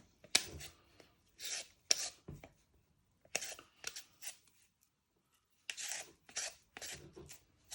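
Skin being peeled off carrots for carrot and coriander soup, close scraping strokes in short bursts of two or three with brief pauses between them, quiet and with no speech.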